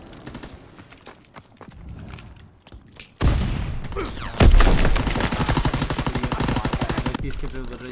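Rapid automatic gunfire from a video game battle, a dense burst of repeated shots cracking loudly after a quieter opening with scattered distant pops, with a louder boom partway through and sustained firing to the end; a voice talks faintly underneath.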